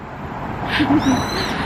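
A bird calls on a residential street in Seoul, a few short hoot-like notes over steady street noise, fairly close and clear.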